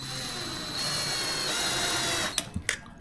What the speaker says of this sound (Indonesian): baru kita bor